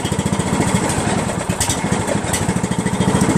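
A Craftsman LT1500 lawn tractor engine running close by, a loud, fast chugging putter with a steady rhythm and a slightly uneven idle after carburetor work.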